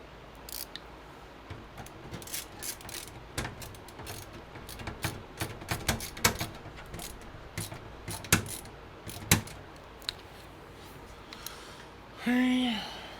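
Small screws being driven in by hand while building a budget gaming PC, giving scattered short clicks and ratcheting ticks at close range, with a brief louder whirring burst near the end.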